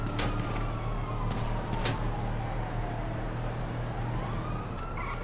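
Police car sirens in Grand Theft Auto V wail in slow rising and falling sweeps over a constant rumble of engine and traffic noise.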